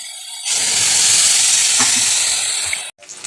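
Leafy greens frying in a pan with chilli and onion burst into a loud, steady sizzle and hiss as water is added, holding for about two seconds before cutting off abruptly.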